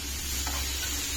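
Grated carrot and vegetables fry for chicken fried rice in a hot pan, giving a steady close sizzle with faint stirring scrapes throughout.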